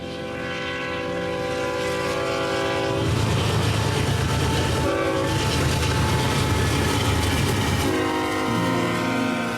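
An eastbound manifest freight train rumbles past on a curve with a loud, sustained horn blast sounding over the steady roar and rattle of the cars.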